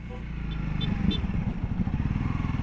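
A Honda CRF 300L dual sport motorcycle is ridden on the road, its single-cylinder engine putting out a steady low, pulsing drone heard close from the rider's position, with faint wind rush over it.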